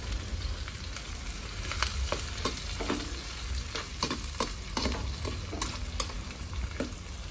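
Chopped onion sizzles in a very hot pan with cumin, a steady crackling fry broken by repeated scraping stirs, close and alone with no talk.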